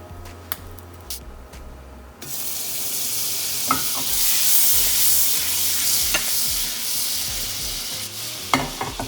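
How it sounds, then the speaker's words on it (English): Butter sizzling and melting in a pan still coated with oil after frying salmon, a steady loud sizzle with occasional stirring clicks and scrapes. "So in the same pan, I have some oil left and just going to add butter."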